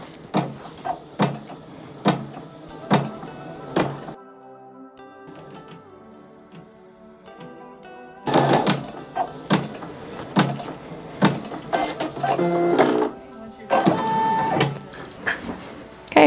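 A Baby Lock embroidery machine stitching a design runs with a steady mechanical whir, broken by rapid clattering bursts and repeated thumps, loud and close, pausing briefly in the middle before the stitching starts again.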